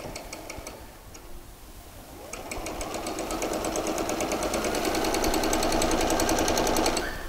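A sewing machine stitches the inside leg seam of a pair of shorts. It starts after a quiet pause with rapid, even needle ticks and a rising motor hum, and runs steadily until just before the end.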